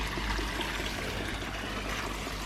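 Water pours steadily into a garden pond to refill it, a continuous soft splashing rush that stays even and moderately quiet throughout.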